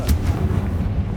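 A Confringo spell blasts in the video game Hogwarts Legacy with a loud, close, booming explosion that rumbles on through the whole short moment.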